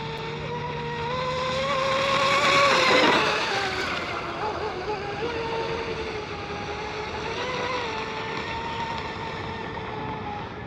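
A J&R Marine H26 hydroplane RC boat runs at partial throttle on open water, a high buzzing motor whine rising and falling as it passes, continuous over roughly ten seconds with faint talk behind it.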